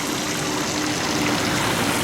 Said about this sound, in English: A nice little water feature.